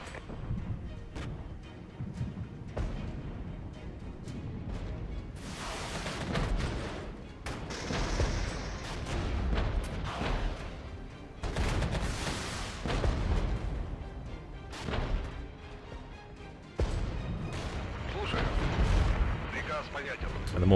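T-64 tank cannons in the Regiments war game fire on enemy mortars, producing repeated heavy booms and rumbling impacts at irregular intervals, with someone talking over the battle.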